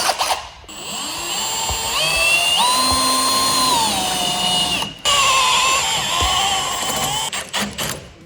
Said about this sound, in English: we'll take this off and we'll drill two holes at 7/32